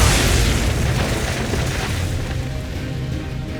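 Booming naval cannon fire in Assassin's Creed III during a ship battle, a dense continuous roar of heavy blasts with no clear gaps, loud and close throughout.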